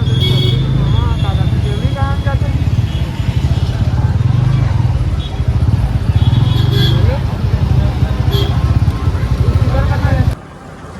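Busy road traffic of cars and motorcycles hums and rumbles continuously, with a few horn honks. People talk over the top of the traffic noise.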